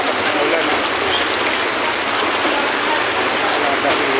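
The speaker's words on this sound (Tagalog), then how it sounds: "Talagang malakas nga talaga ang ulan." Heavy typhoon rain pounding down on Padre Rada Street in Divisoria during Typhoon Enteng, a thick unbroken hiss and patter of rain on surfaces, loud and close, with someone talking over it.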